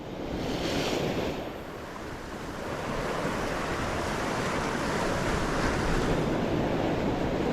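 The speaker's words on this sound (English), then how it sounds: "The swell has definitely dropped off a bit since it was yesterday." Ocean surf washing onto the shore at dawn during a big tide with a dropping swell: a continuous broad roar of breaking waves swelling and easing, mixed with wind buffeting the microphone, no voices.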